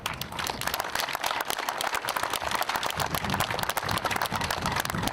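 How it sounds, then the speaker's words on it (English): A crowd applauds veterans honored at a construction combine appreciation event, steady dense clapping sustained throughout at moderate distance, no voices standing out. "So maybe we could just take a moment and give them a round of applause."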